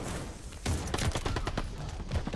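Shotguns firing in the Call of Duty Vanguard multiplayer shooter, a rapid string of loud, close booming blasts cracking one after another over steady game background noise.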